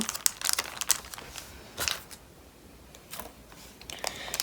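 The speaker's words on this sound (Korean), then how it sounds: "여기 부분을 이렇게 맞추어서 이렇게 접어주세요" A sheet of paper being folded for an origami peacock, heard as close, crisp crinkles and creases in short bursts with quiet pauses between them.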